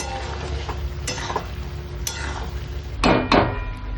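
Chicken liver stirred in a kadai for a Bengali kolija kosha, a low steady sizzle of frying under sharp spoon scrapes and clinks against the pan, two loud knocks near the end.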